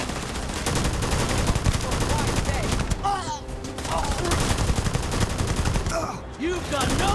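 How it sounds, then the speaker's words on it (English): Rapid, continuous automatic gunfire in the Starfield video game as a full magazine is emptied, loud and dense for several seconds with brief pauses, a voice speaking over it. "That's a mag dump right there, brother."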